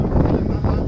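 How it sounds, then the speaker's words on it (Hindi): Strong wind gusting across a rooftop, buffeting the microphone with a dense, rough roar that surges twice in under a second. "दोस्तों बड़ी तेज़ हवा चल रही है"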